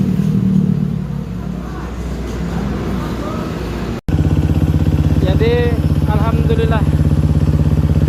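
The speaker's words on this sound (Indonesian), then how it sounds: "buat motor ini sudah nyala" A KTM 350 EXC motorcycle engine running after a fuel pump repair, a steady loud idle with a rapid even firing rhythm under someone speaking, the engine note growing fuller after a brief cut.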